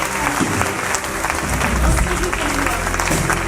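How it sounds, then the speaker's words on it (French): A church congregation claps together during a Sunday worship service, a dense wash of applause filling the room and continuing steadily at a fairly loud level throughout. "Let's give them a round of applause."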